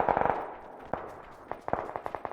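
Automatic gunfire in the video game PUBG, a quick rattling burst followed by scattered single shots and short rapid volleys at moderate volume.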